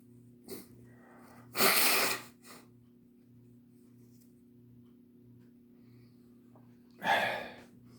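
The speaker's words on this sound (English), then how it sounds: "I feel like I got to sneeze." A short exhale, then a sharp sneeze, followed by a second sneeze several seconds later, over a faint steady hum and ticking.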